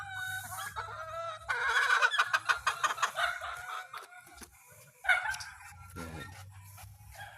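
Three-day-old newly hatched chicks and other chickens on a backyard mini farm, with high bird peeps and clucks, a rooster-like call, and someone talking over them, plus brief busy bursts partway through.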